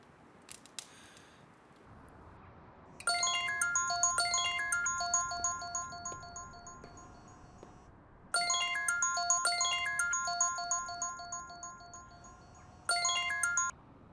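A phone's ringback tone repeats on an unanswered call, a few bursts of clear electronic beeping with short silent gaps between them, preceded by brief clicks and faint background noise.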